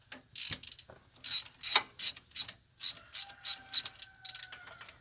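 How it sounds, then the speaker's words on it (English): Ratchet wrench with a socket clicking on a hub bolt of a 2000-2006 Chevy Suburban, a series of quick sharp ratcheting bursts in an irregular rhythm, close up and alone. "I think I'll sneak this socket in here."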